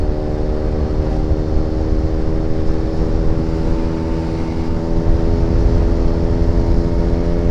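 A Vespa smallframe scooter, a rough rat bike, drones steadily on a test ride, its small two-stroke engine holding a buzzing, harmonic-rich note with slight wavering, loud and close for several seconds with no talking.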